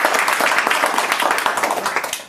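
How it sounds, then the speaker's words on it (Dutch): Applause from a group at a certificate ceremony in a work club: dense, close hand clapping from many people holding steady for a couple of seconds, then tapering at the end. "Heel veel klappen"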